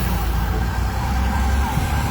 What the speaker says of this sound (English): All you hear is sirens